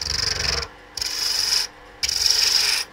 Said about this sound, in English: we want to put a little bit of shape on, and we can actually do that with the roughing gouge